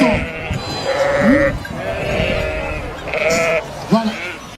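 Sheep bleat in several drawn-out, wavering cries over a busy, noisy background, loud and close.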